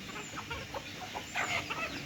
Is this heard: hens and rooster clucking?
yes